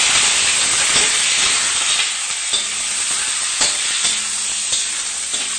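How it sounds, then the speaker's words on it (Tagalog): Chicken pieces hitting a hot pot for Filipino tinolang manok, a steady loud sizzle and hiss of frying with occasional stirring clinks, continuous and close with no talk. "lagyan na natin yung ating chicken."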